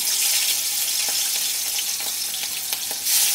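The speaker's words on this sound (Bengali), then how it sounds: "এখন আমি প্রথমেই চিংড়ি মাছগুলোকে একটু ভেজে নিচ্ছি।" Prawns coated with salt and turmeric fry in hot oil with a steady, close, crackling sizzle and a few sharper pops.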